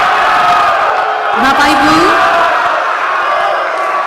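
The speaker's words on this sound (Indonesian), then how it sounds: "kita beri tepuk tangan untuk kedua calon wakil gubernur" Audience applause for the two vice-governor candidates at a South Sumatra gubernatorial election debate: a steady, dense wash of crowd clapping and cheering fills the whole stretch, loud and continuous, with voices mixed into the crowd.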